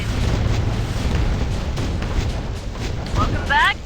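Artillery fire and explosions in the Last Z survival shooter video game, heard as a loud continuous rumble of blasts, with a brief electronic chirp near the end.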